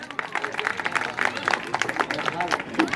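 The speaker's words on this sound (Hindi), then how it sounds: "तालियां बजाइए।" Audience clapping after a poem at a Republic Day speech in a digital library hall, a brief burst of dense, fairly close applause with murmuring voices mixed in.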